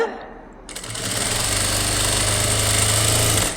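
Electric sewing machine stitching a blouse side seam starts up after a quiet moment and keeps running as a steady, loud, close whirring hum with a fast rattling stitch rhythm.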